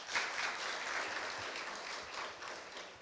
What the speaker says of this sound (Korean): 모든 내빈 여러분께 다시 감사의 큰 박수 부탁드립니다